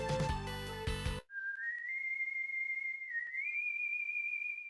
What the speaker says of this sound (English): Did the empty room just whistle at me?